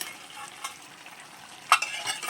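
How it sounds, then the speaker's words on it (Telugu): Village-style sea crab curry simmering and sizzling in oil in a pan, with a soft steady bubbling bed and occasional scrapes of a spoon stirring it, one sharper scrape near the end. "చూసారా కూర చక్కగా ఉడుకుతుందండి"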